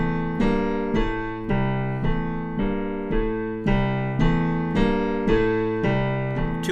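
A piano chord exercise played fast, a steady rhythmic stream of repeated chords changing every beat or so, bright and close with no talking.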